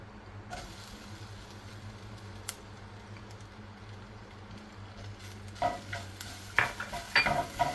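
Urad dal and coconut fry in a pan with a low, steady sizzle, and toward the end a spatula scrapes and clinks against the pan in several sharper, closer strokes.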